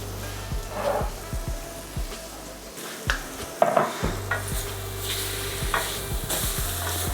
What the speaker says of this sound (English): I'm just going to drizzle it with a bit of olive oil just onto the pan to toast it a bit